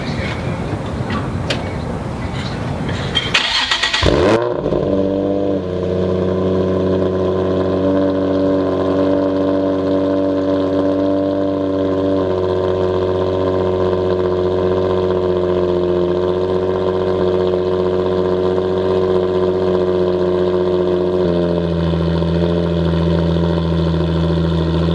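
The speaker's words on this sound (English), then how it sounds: "get some sound clips of the Motordyne exhaust with the thunder pipe installed" Infiniti G35 fitted with a Motordyne exhaust and thunder pipe, starting up: a brief crank catches, then a loud, steady deep idle burble holds for the rest of the time.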